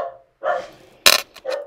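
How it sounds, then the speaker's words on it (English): A dog barks several times nearby indoors, a quick run of loud, sharp barks with short gaps between them, heard on their own without talking. "Sorry about the dog barking."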